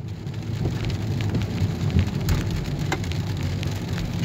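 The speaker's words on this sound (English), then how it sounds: "This is actually much needed rain" Steady rain falling in the greater Seattle area on a June day, a dense continuous hiss with scattered close drops and a faint low rumble beneath.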